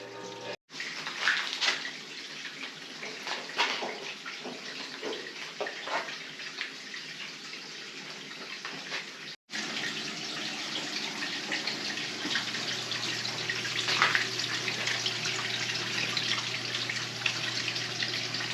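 Steady rushing water runs continuously into a newly installed electric hot water tank, with a brief cut partway through, then a smoother, fuller flow as the tank fills.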